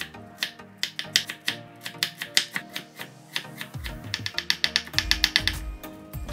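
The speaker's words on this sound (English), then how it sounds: "Cut the sliced carrots into small pieces again. Cut the sliced carrots finely." Knife finely chopping thinly sliced carrots on a cutting board, a rapid run of sharp, crisp taps that speed into dense clustered bursts, close and clear with no talking.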